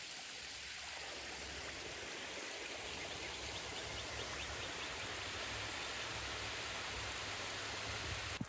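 A small trail stream fed by waterfalls on the Hemlock Trail in Truro gives off a steady, continuous broadband rush, close and even in level from start to finish with no voices.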